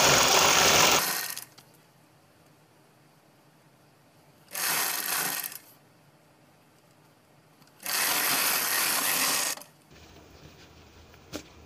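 Sewing machine stitching blouse sleeve pieces together, running in three loud whirring bursts of roughly one to two seconds each, separated by near-quiet pauses with faint handling noise.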